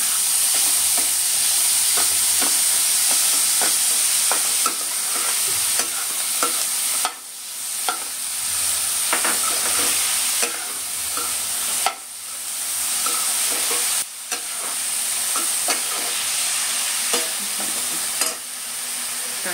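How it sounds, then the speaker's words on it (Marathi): Two large chopped onions sauté in a pan with a steady loud sizzle, broken by intermittent stirring scrapes and a few brief dips when the pan is moved, and no talk. "2 अख्खे कांदे चिरले आहेत। मोठे होते कांदे, मस्त परतून घ्यायचं"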